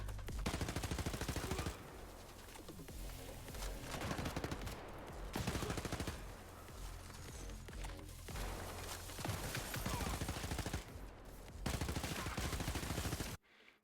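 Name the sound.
SMG gunfire in video game Den of Wolves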